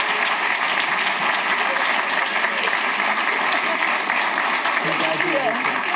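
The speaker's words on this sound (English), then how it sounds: "can we get a round of applause for our idea track winners" Audience applause for the idea track winners of an early education innovation challenge, a steady dense wash of clapping that sustains at full level for the whole stretch.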